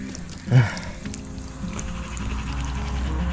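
Drinking water pouring from an outdoor tap beside a lake with houseboats, a steady close trickle and splash running under faint background noise, with a brief louder knock near the start.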